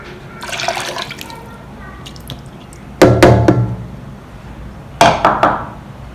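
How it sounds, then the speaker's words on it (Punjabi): Water for cooking rice is tipped into a pot in two separate splashing pours a couple of seconds apart, close and loud, after a stretch of quieter kitchen handling, with no talk. "ਦੇਖੋ ਆਪਾਂ ਦੋ ਕੋਲੀਆਂ ਪਾਣੀ ਦੀਆਂ ਪਾਈਆਂ ਨੇ"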